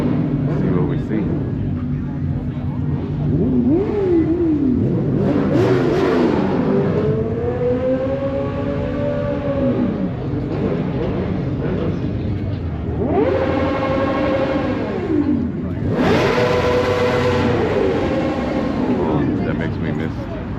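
Engines rev repeatedly at a car meet, loud bursts rising and falling in pitch several times over the crowd's background, with people talking nearby between the revs.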